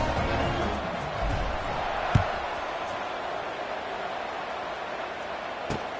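A packed football stadium crowd in Oregon Ducks territory keeps up a steady, dense roar after a touchdown, with a couple of sharp thumps standing out from the wash of noise.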